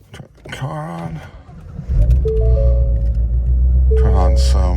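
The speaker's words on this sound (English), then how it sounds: "Turn the car on." A Ford Mustang GT350 fires up with a low, rumbling idle that settles into a steady drone, preceded by a voice talking close by and followed by a brief rise in revs.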